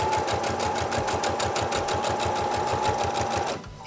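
Sewing machine running steadily, stitching around the edge of a fabric corner bookmark, a fast even rhythm of needle strokes heard close and loud for several seconds before stopping abruptly.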